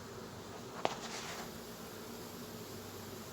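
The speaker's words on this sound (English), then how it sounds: "There's a gob of bees here. You know, this is probably, we're looking at probably a 5-pound swarm." A large honey bee swarm of about five pounds, being gently boxed into a hive with ten frames, makes a steady close buzzing drone, interrupted once by a brief sharp tap.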